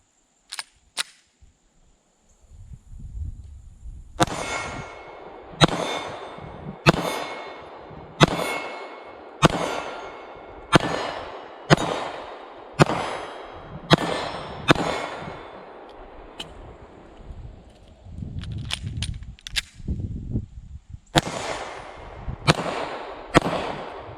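Taurus G3C compact 9mm pistol firing Remington 115 grain full metal jacket rounds, a steady series of about a dozen sharp, loud shots at regular intervals, with a short pause partway through and a few more shots at the end.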